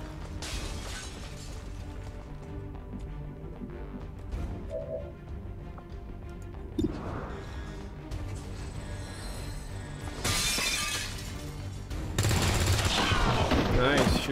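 Rapid gunfire from the XCOM 2 video game, bursts of shots and crashing impacts stacked over a steady game backdrop, growing louder and denser toward the end, with a voice speaking over it.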